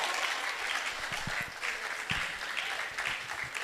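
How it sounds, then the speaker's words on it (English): An audience applauds an African soul singer at an arts and culture exhibition launch, a steady dense wash of clapping that holds evenly throughout with no speech. "Please let's give him a round of applause."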